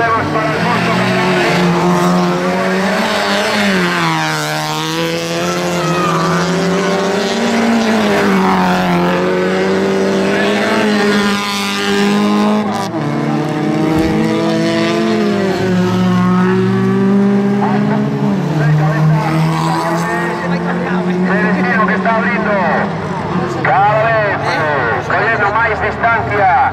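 Autocross race cars in the under-1600 cc class roar loudly and steadily as the engines rev and shift, while a commentator talks over them throughout.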